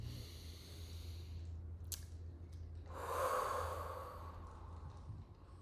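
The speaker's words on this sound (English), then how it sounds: "let's take a deep breath in" One deep breath taken in and let out, close and breathy, swelling into an audible sighing exhale in the middle before fading, over a low steady background hum with no talk.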